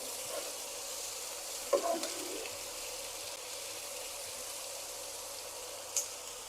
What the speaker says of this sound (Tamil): எண்ணெய் நல்லா காஞ்சதும் வெங்காயத்தை நல்லா சேர்த்துக்கலாம். வெங்காயம் நல்லா வதங்கட்டும்.